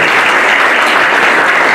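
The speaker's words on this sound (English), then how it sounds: "And how about one more round of applause for our great panel?" Conference audience claps for the speakers, a brief burst of thick, loud, continuous applause from a full room, close and steady.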